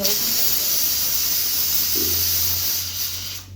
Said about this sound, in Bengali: ভাতটা প্রেশার কুকারে সিটি দিচ্ছে দেখেছো